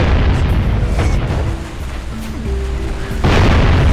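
Bombs burst in Jak and Daxter, the first Jak game: a continuous roar of loud, close booms and rumbling blasts, dipping briefly before a fresh explosion surges back at full force.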